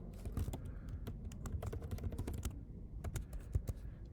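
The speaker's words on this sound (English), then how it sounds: "I'm just going to type it in" Steady typing on a computer keyboard while entering game code, with quick irregular key clicks running close and clear throughout, and no talking.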